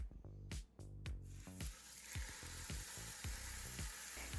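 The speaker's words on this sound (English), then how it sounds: "Once that tallow is good and hot, it's time to go ahead and put your roast right in there." A pot roast drops into hot beef tallow and sears with a loud, steady sizzle and crackle, a few sharp clatters near the start, then continuous frying with small pops throughout.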